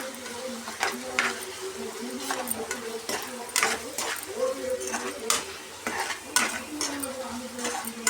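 Tomatoes with salt and chili powder cook in a pan, a constant sizzle and fry broken by frequent scraping stirs of a utensil against the metal.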